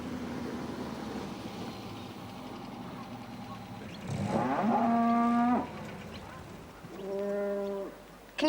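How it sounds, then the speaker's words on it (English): A cow moos twice from a country roadside, heard from inside a stopped car: a long, loud call, then a shorter, softer one, over a low background rumble. "It's a cow."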